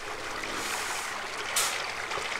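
Water pours in to fill a new swimming pond lined with foil, a soft steady rushing and trickling, faint and continuous, with a brief splashy surge partway through.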